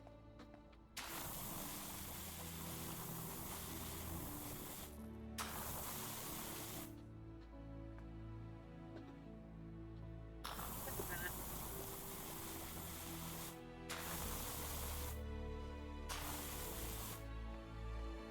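Pressure washer spray in PowerWash Simulator 2, a steady broadband hiss in long bursts separated by short pauses, with game background music running underneath.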